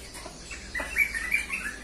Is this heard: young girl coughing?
no